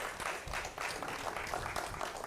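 Faint, steady applause from the audience at a diplomatic forum on global cooperation against an epidemic, a soft continuous patter of many hands with no voices over it.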